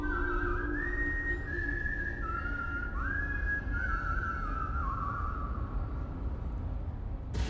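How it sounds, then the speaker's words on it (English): Someone whistles a steady, wandering tune over a loud, constant crowd murmur. "Is that you whistling"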